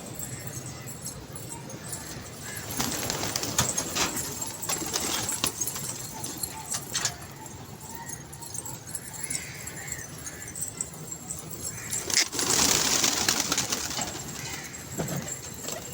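Pigeons cooing and fluttering amid outdoor background noise, with occasional clattering and brief bursts of wing flaps.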